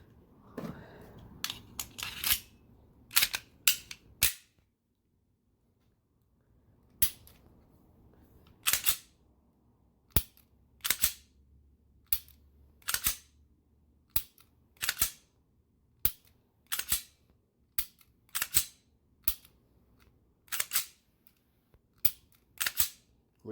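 Dry firing of an Apex Blue flat-face trigger with reset: crisp mechanical snaps and clicks, close and sharp, coming singly and in pairs with short pauses between, in otherwise quiet surroundings.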